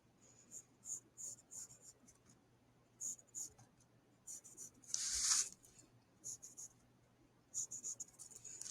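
Pen or pencil drawing straight lines on paper for a simple geometric house sketch with a chimney, heard as quiet, short scratchy strokes in irregular bursts, with one louder stroke near the middle.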